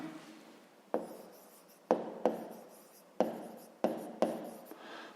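Pen or pencil scratching on paper while working a school maths exercise, close and quiet, in repeated short strokes, each starting with a sharp tap and then a fading scrape, no voices.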